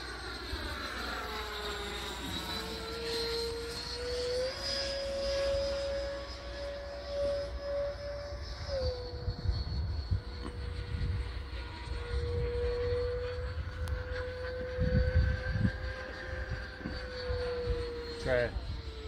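Freewing Eurofighter RC jet making a slow, low pass over a runway on its maiden flight, a steady electric ducted-fan whine rising and falling in pitch as it passes, with voices and chatter underneath.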